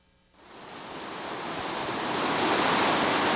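A big river rushing at the put-in on the lower New River Gorge in West Virginia, around 13,000 cubic feet per second, surges up from near quiet into a broad, steady roar of whitewater that grows louder.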